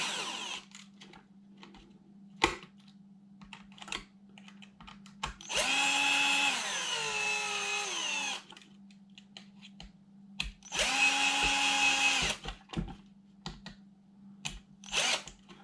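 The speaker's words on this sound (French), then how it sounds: "Tu utilises une perceuse sur un dixième, tu vas tout casser." A power drill assembles a 1/10 scale TLR Losi 22 V4 carpet RC car kit, whirring in two loud bursts of a couple of seconds each, with small clicks and handling of parts in between.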